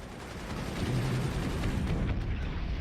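Howitzer artillery fire in the strategy game Forts, a dense continuous rumble of overlapping booms and low thuds rolling on without a break, loud and close with no talking.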